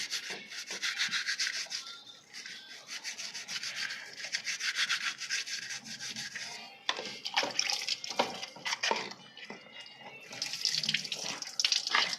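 A washing machine part is scrubbed and rinsed under running water with Vim dishwashing liquid, giving a close, continuous rubbing and splashing with irregular scraping bursts, no talking.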